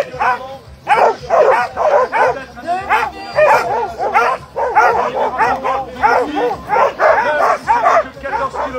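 Sled dogs bark and yip excitedly in a loud, continuous chorus at the start line of a stage in a mountain sled-dog race at Villard-de-Lans, with a commentator talking over the rapid, overlapping barks.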